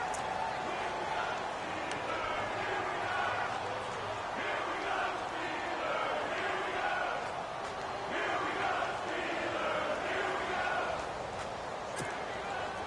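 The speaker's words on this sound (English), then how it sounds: "the crowd getting into it as we come up on a big 3rd down" Stadium crowd noise in an American football video game on PS4, a steady roar and cheer building ahead of a big third down, continuous and fairly loud throughout with commentary voices running over it.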